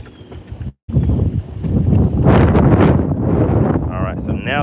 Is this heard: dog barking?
no